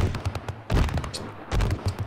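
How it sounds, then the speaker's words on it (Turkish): Fireworks in the GTA 5 video game pop and crackle in rapid, uneven bursts, loud and close, in two denser clusters of bangs with no talk over them. "Bana havai fişek atıyorlar arkadaşlar."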